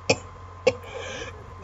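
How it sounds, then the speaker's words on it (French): Three short, sharp hoarse coughs come close up, spaced roughly half a second apart, with a faint rasp between them and no talking. "Excusez-moi, j'ai une toux rauque."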